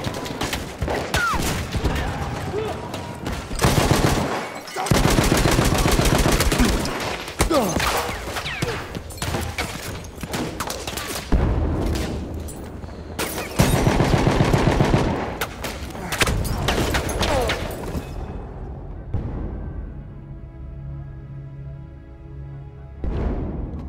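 Battlefield 1 online gameplay with dense, loud gunfire: sustained machine-gun bursts and rapid shots nearly continuous, with brief lulls and a quieter tail where the firing thins out.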